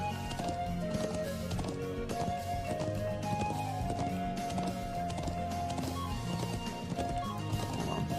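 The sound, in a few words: horse hooves clip-clopping, riding on horseback in Trails of Cold Steel video game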